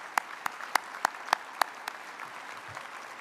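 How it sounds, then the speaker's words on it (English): A small gathering at an annual meeting gives James a round of applause: about eight sparse, distinct claps spaced evenly, then fading to quiet room tone. "So let's give James a round hand. Round of applause."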